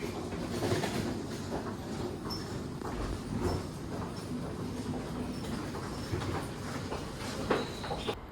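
A train rumbles steadily close by as it arrives at Nebukawa Station, with rolling wheel noise and faint high squeals, no talking.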